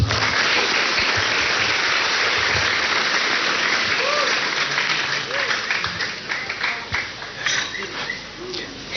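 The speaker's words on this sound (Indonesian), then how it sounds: "Sekarang tepuk tangan untuk Sabrang semua." Sustained audience applause at an outdoor Maiyah religious gathering with a speaker, a dense steady wash of many hands that gradually thins toward the end, with faint voices underneath.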